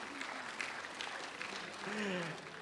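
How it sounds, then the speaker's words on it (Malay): An audience at an arts gala forum claps for a performer, a faint, distant patter of applause mixed with voices talking in the background. "tepukan untuk Afzlin Syauqi."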